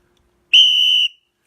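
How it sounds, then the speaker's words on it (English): A single sharp whistle blast, loud and clean, lasting about half a second in otherwise near silence. "This is why the whistle's so necessary."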